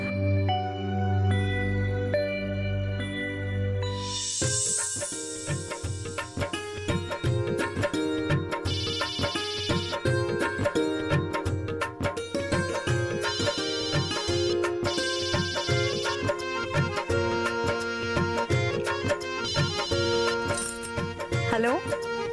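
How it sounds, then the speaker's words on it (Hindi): A phone ringtone plays on an outgoing call, a bright repeating melodic tune that starts after a few seconds of other music and continues steadily for the rest of the clip. "अभी उसको फोन मिला करके बात कर लेते हैं।"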